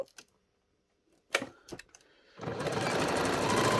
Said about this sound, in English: we're going to stitch all those layers together, minding our pleats on the inside